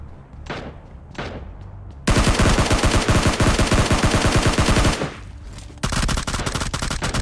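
Loud automatic gunfire from the PUBG Mobile Lite mobile battle royale game, dense rapid bursts after a couple of softer shots, pausing briefly before another sustained burst.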